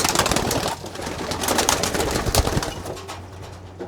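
Pigeons cooing in a loft with a small roller or frill dropper bird, soft repeated coos over a busy rustle of birds moving close by, without talk.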